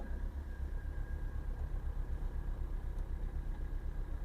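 A Maruti Swift VDi diesel with about 115,000 km on it idles steadily, a low, even, rhythmic engine throb heard close up with no revving.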